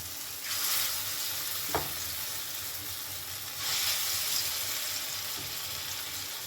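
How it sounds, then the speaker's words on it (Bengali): Batter fritters (bora) deep-frying in hot oil, a steady broadband sizzle that swells twice as fresh batter goes in, with a faint utensil tap partway through; no talking. "সবকটা বড়া বেশ লাল করে ভেজে নিয়েছি"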